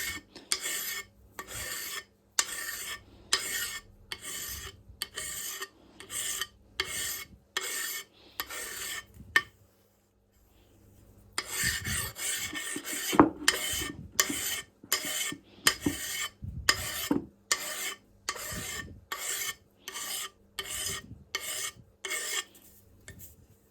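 A Juuma No 4 bench plane cuts wood shavings in a steady run of rhythmic rasping strokes, close and fairly loud, pausing for a couple of seconds before resuming.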